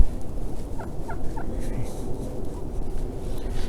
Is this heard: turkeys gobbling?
yes